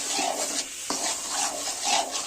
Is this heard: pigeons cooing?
no